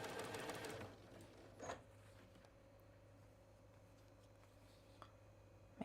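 A sewing machine chain piecing quilt blocks runs in a steady whir for about a second, then goes quiet except for faint handling clicks and a soft rustle of fabric, with a brief second burst near the middle.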